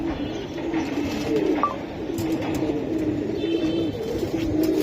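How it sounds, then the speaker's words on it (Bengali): Pigeons coo with repeated low, soft throaty calls close by in a loft of fancy pigeons, other birds faintly chirping behind them. "এই যে এই যে এই যে কবুতর দেখছেন, মাশাআল্লাহ অনেক সুন্দর।"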